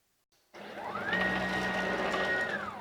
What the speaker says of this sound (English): the machine will come in and set right down the bottom left hand corner, exactly where it should do